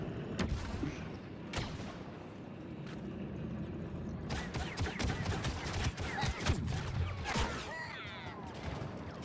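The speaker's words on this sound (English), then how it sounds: "The shotgun is so broke, dude." Shotgun fire in a shooter video game, with several sharp booming blasts in quick succession followed by a denser cluster of shots and mechanical clatter.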